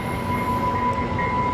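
A Trinity Railway Express commuter train in North Texas rumbles past steadily and loudly, with a sustained rolling roar and a faint tonal hum throughout, no talking.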